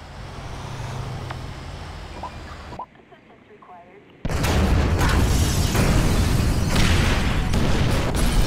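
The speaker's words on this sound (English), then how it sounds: "Detonate the incendiaries, Frank." Incendiary explosives detonate in GTA 5 heist action, a loud sudden burst after a brief quiet gap, then sustained roaring fire and rumble.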